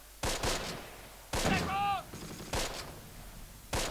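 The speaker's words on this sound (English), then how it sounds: "They're using artillery!" Artillery and gunfire in the Close Combat World War II strategy game: sharp, loud bursts of shots crack out in separate volleys, with a brief whistling tone in between.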